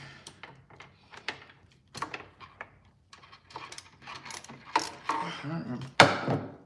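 Tight machine screw being unscrewed during a PC build, giving a series of close, irregular metallic clicks and ratcheting scrapes that build to a louder grinding burst near the end.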